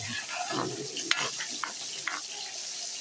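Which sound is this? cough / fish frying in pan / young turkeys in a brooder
fish frying in pan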